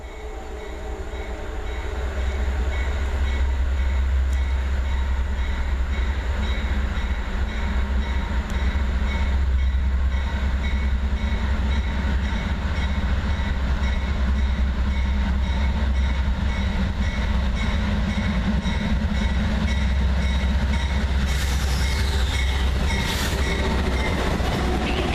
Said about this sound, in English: Rack Train 27V rolled by heading west at Avon Tunnel